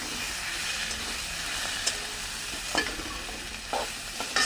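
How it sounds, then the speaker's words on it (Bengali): Freshwater eel fish and ginger paste are stirred in a frying pan, a steady sizzling hiss with a few sharp scrapes of the utensil against the pan. "এবার এটাকে নেড়ে ছেড়ে আর একটু"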